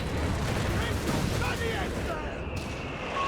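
Artillery barrage in Company of Heroes 3, a dense roll of booming impacts and crackling fire sustained throughout, with a commentator's voice talking over the din.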